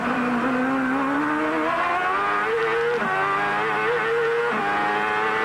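IndyCar race cars with Ford and Honda engines at full revs, a high whining engine note climbing and dipping with gear changes, sustained and fairly steady, heard without talk at a 1997 race event.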